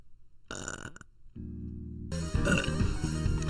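Someone lets out a loud, drawn-out burp close to the mic in several rough, gurgling stages that build toward the end. No talking can be heard over it.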